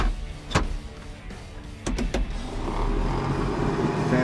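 A heater fan motor in a 1969 Ford F250 spins up with a steady whir that swells into a continuous hum, after a few sharp clicks from the controls.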